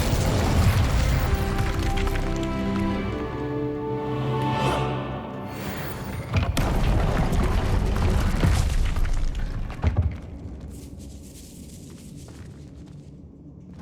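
The Incendio fire spell cast in Hogwarts Legacy on PS5 gives a loud, sustained fiery roar and boom with tonal game sound layered over it. It fades into a lower rumble after about ten seconds, and nobody speaks.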